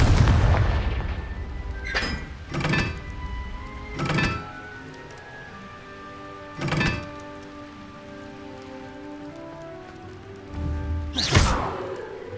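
Confringo blasting spells in the video game Hogwarts Legacy go off as about six separate explosive bursts spaced a second or more apart, each a short sharp crack with a rumbling tail, and the last one is loudest.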